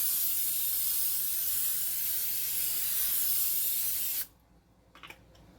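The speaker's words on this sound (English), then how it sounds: "now I'm just getting ready to spray my veggies and my sausage" Cooking spray hisses in one long steady burst over vegetables and sausage on a foil-lined sheet pan, loud and close for about four seconds, then cuts off abruptly, followed by a few faint handling sounds.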